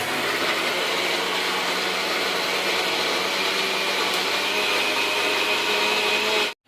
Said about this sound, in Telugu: ఇక చల్లారనే మంచిగా మిక్సీ పట్టాలి